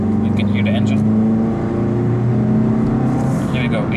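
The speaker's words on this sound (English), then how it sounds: "You can hear the engine." A 2017 Mazda CX-3 Skyactiv-G 150 petrol engine in an automatic AWD SUV accelerating, a steady low engine drone rising under road and cabin noise, with someone talking over it throughout.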